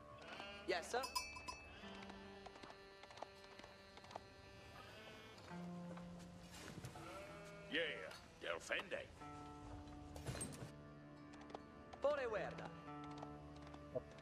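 Sheep bleat intermittently in Age of Empires IV, set among game sounds and music, with a person speaking over much of it.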